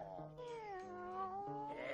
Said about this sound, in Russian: Шестеро котят.